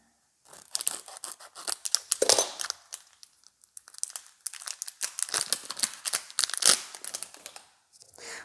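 Crinkly rustling and tearing of a parcel of plant accessories being unwrapped in irregular bursts, close by, with brief pauses between handfuls of crumpling.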